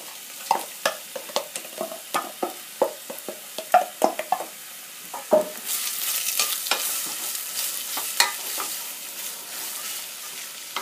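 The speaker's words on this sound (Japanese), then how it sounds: "じゃあここに、みじん切りの玉ねぎを入れていきます。" Finely chopped onions fry in two tablespoons of oil for curry, with a close spoon stirring in repeated scraping knocks, then a steady hiss of sizzling takes over.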